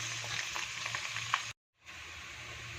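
Curry leaves hit a hot pan with onions, garlic and ginger for a clam meat roast, crackling and spitting in sharp pops over a low sizzle before cutting to silence, then a steadier hiss resumes.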